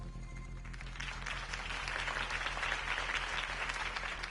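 A crowd applauds after a campaign speech in a Batman video game, dense steady clapping that swells after the first second and carries on evenly at moderate volume.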